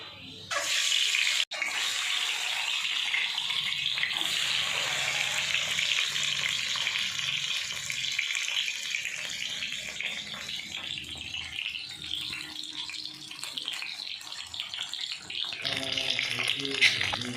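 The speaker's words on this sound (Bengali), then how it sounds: "এটা বন্ধুরা, আমি ডিমটা ভেজে নেবো।" An egg fries in a pan with a steady, loud hiss and sizzle that fills the whole stretch, close up and with no talk over it.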